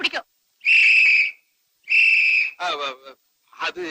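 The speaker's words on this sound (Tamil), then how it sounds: "விசில் எனக்கு ரொம்ப பிடிக்கும்" A whistle is blown in two long, loud, close blasts, separated by short warbling sounds.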